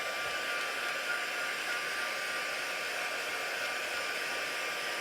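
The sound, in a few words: dryer drying a card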